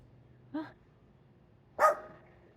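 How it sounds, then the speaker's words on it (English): Two separate yips from a dog, the second louder, with a short pause between them against a quiet background. "what you barking at, Spice?"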